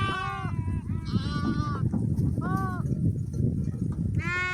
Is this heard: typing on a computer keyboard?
no